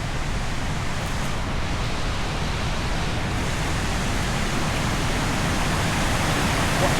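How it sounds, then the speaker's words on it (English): Heavy flow of Mad Brook pouring over a waterfall, heard from above the falls as a steady, loud, broadband rush of water that continues unbroken throughout. "Mad Brook is flowing quite heavily."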